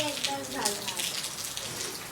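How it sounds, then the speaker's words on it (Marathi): Rain falls outside in a steady, even hiss of drops that continues throughout, with a brief voice heard near the start. "हे बघा पाऊस किती मस्त पडतोय"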